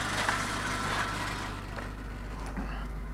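Steady rumble of a truck's exhaust running on a frozen truck fitted with many mufflers and four catalytic converters, a continuous low drone heard close with no talking.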